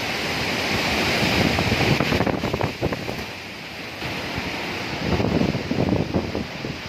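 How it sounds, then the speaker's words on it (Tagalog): Strong typhoon wind roaring continuously during Typhoon Odette, a loud, dense gusting rush with no talk. "Grabe lakas ng hangin talaga."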